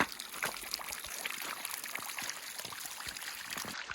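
Snowmelt water on an off-grid homestead trickling and flowing against a building, a faint, continuous, gurgling stream with no voices.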